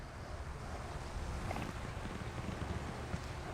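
Steady wind on an overcast, windy day over a lake buffets the microphone, a constant low rumbling rush at moderate level with small gusty swells and no voices.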